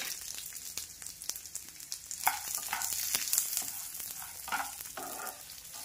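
Garlic, cumin and roasted gram dal dry-roast in a pan with a continuous crackling sizzle and frequent stirring scrapes, close and fairly loud, with no talking.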